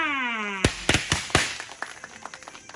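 Several sharp claps ring out at an official village tourism opening ceremony in Chiang Mai, following a sustained tone and thinning into scattered taps near the end.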